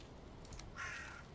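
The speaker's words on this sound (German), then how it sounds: "Ein Rabe durch den Boden, alles klar." A raven in Valheim gives a few quick, faint caws, a short cluster of harsh calls followed by one longer rasping cry, distant and quiet over low background ambience.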